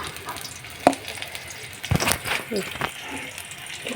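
Whole cumin seeds crackle and sizzle in hot oil in uneven bursts, with sharp spattering pops and some stirring noise close by, while a voice is faintly present.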